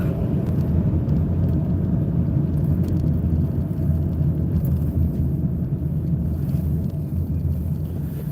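A car drives on the left side of the road, heard from inside as a steady loud low rumble of engine and road noise, with no talking.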